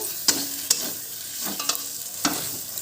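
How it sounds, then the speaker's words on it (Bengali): Cumin powder and spice masala frying in a pan for a country-chicken curry, stirred with a few sharp scrapes of the utensil over a low, steady sizzle. "একটু ভালো করে ভেজে নিয়ে তারপরে মাংস দেবো"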